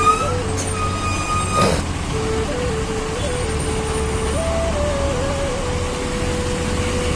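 A road traffic jam with buses and other vehicles. A steady, loud engine rumble holds throughout, with drawn-out horn tones sounding near and farther off.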